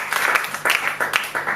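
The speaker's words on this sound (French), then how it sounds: "Que celui qui a compris acclame pour l'Éternel" Congregation in a Kinshasa church applauding and cheering during a thanksgiving service, bursts of clapping and voices rising and falling in several waves, close and fairly loud.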